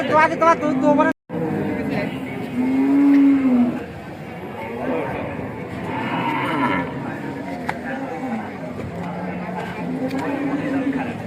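Cattle mooing at Sharatnagar cattle market, where a large dairy cow is on sale, with long low calls rising over a steady crowd babble and someone talking close by.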